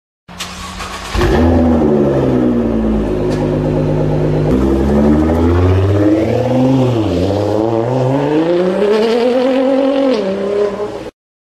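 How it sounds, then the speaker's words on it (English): A sports car engine revs hard and continuously, its pitch climbing, dipping and surging again in a loud, close, smooth drone with no talking. "Sports car."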